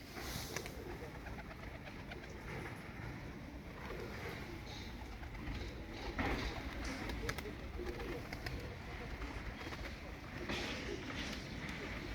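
Pigeons and doves cooing among their young on an open hillside, soft repeated coos set within steady outdoor noise and background chatter.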